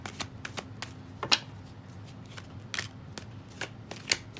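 Tarot cards are shuffled by hand in a quiet room, giving a series of brisk riffling bursts and soft flicks spaced irregularly, each short and close, with no talk.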